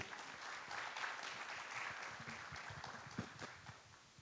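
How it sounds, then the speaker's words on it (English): An audience at an air quality technical session applauds at the close, soft, steady, distant-sounding clapping throughout with no clear talk. "Clap hands for them as we conclude."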